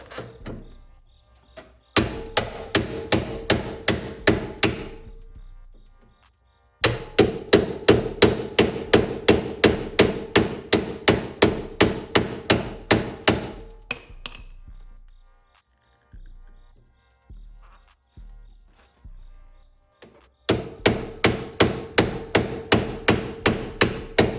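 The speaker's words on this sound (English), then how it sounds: "Take a hammer. Now this is the scary part, because this you gotta hit pretty dang hard." A hammer pounds a Phillips bit socket to break loose the door screws on a Lexus SC300/400, making loud, rapid metallic strikes in long bursts of about a dozen hits, separated by short pauses.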